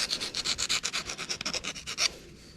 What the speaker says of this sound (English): Take these burrs off.